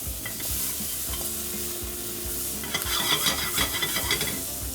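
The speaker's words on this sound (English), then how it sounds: "So getting those shallots cooked, browned, not black. We want to get them nicely sweated down." Shallots sizzle and fry in oil in a pan, a steady close hiss with scraping stirs, the sizzle growing brighter and louder toward the end; no one talks.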